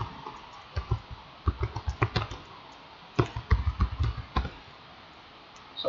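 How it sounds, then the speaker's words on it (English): Keys clacking on a computer keyboard as a search is typed, in uneven bursts of quick clicks with short pauses, fairly close and alone with no talk. "click on this box, and then simply type your search in there"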